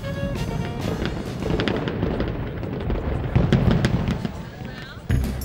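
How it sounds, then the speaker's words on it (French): Festival fireworks in Montreal, Canada: a dense run of pops, crackles and booming bursts, fairly distant and continuous, with a sharper bang near the end. "Et aussi les feux d'artifice."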